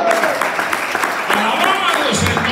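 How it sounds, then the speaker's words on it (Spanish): A church congregation applauds, with clapping blended with cheering voices and a bit of talk. The sound is fairly loud and continuous, but brief. "Dele un fuerte aplauso al Señor en esta hora."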